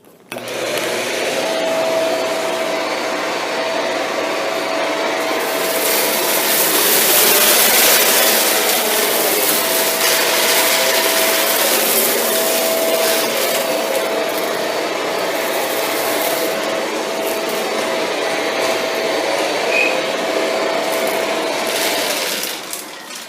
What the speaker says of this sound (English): The vacuum will have the brush bar off. That means it's in hard floor mode.